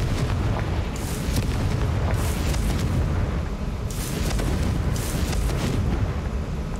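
Confringo spell blasts in the video game Hogwarts Legacy, several bursts of explosion with a heavy, continuous rumble beneath them and brief crackling peaks.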